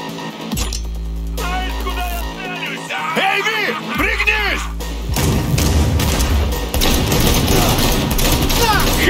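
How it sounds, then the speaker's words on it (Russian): Combat in the video game Cyberpunk 2077 with booming gunfire, thuds and bursts of shots over a dense mix of effects and music, with a voice speaking in between. "Хороший выстрел!"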